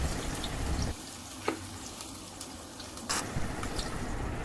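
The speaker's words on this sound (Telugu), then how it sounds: "ఆనియన్స్ ఇలా ఎర్రగా వేయించుకోవాలి." Onions fry in oil with garlic, giving a low, even sizzle with a few small clicks and crackles, fairly quiet and with no talking.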